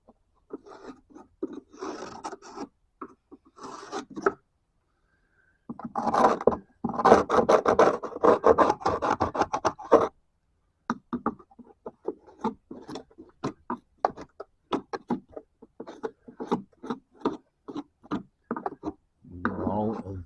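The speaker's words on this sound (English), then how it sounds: "Get all of the grooves cleaned up so that the new boards will slide in." A hand tool scrapes and rasps through the grooves of old wooden porch floorboards, clearing debris so new boards can slide in; bursts of short, dry strokes come close up in uneven runs, separated by pauses.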